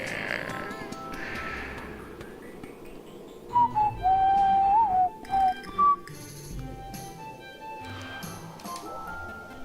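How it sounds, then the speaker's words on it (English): A person whistles a short, wavering melody of a few sustained notes, loud and close, set against quiet game ambience with no talking. "I think I've got really good at whistling, like so good."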